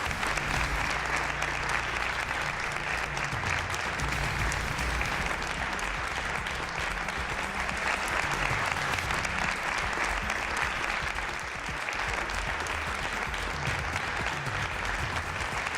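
Sustained applause from a student audience at a youth civic forum, steady and dense clapping that fills the whole stretch without a break.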